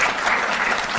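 Loud, steady applause from an audience at a Delhi sports ceremony honouring athletes, a dense wash of clapping that fills the whole moment without a break.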